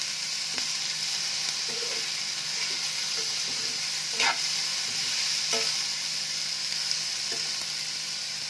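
Vegetables fry in a pan with a constant, even sizzle while a spoon stirs them, giving a few scattered scraping clicks and knocks against the pan.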